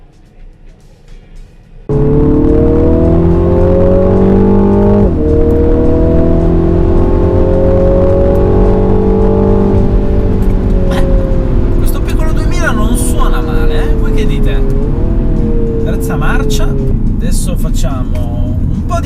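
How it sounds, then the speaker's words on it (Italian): MINI Clubman John Cooper Works lapping a racing circuit, its engine droning and revving continuously from inside the car, rising and falling in pitch under someone talking throughout. "Facciamo un po' di giri piuttosto allegri qui nel circuito bordo della Clubman John Cooper Works."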